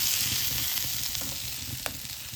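Tilapia fish frying in a pan, a steady close sizzle and crackle of hot oil running throughout with a few sharper pops, no voices.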